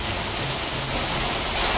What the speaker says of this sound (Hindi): देखो कैसे पानी उनके छत से गिर रहा है